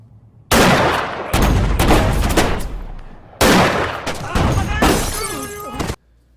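Heavy gunfire from an action scene in a Michael Mann film, loud rapid bursts and sharp cracks in two long volleys with a brief gap, close and dense, with reverberant tails and no clear talk.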